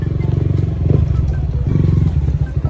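Yamaha Sniper 155 motorcycle with a replaced aftermarket exhaust pipe, ridden at steady low speed, its engine putting out a loud, continuous pulsing drone close by with some clatter.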